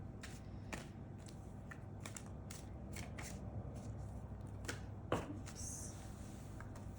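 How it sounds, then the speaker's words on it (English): Tarot cards shuffle quietly in the background, a run of soft riffling and flicking bursts repeating irregularly at low level, with a slightly sharper snap near the end. "I'm shuffling the cards in the background."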